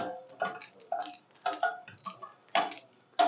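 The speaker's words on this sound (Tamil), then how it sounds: "நல்லா பொரியிற சத்தம் வந்துட்டு பார்த்தீங்களா" Black pepper, cumin and fenugreek crackle as they dry-roast in a pan. Sharp, irregular pops and ticks come up close against an otherwise quiet background.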